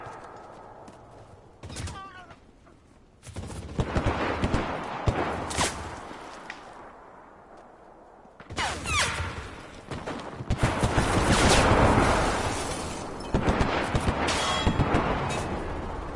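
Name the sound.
gunfire in the video game Enlisted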